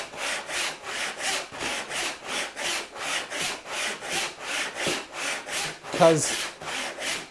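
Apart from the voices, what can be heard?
hand saw cutting a sliding dovetail kerf in wood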